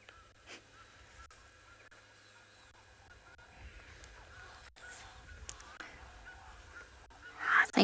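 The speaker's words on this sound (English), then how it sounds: "the Egyptian geese are also starting to irritate her, because we can hear them quite loudly on the dam" Egyptian geese honk from a dam at a South African safari reserve, faint scattered calls over quiet outdoor ambience, swelling into a louder burst of honking at the end.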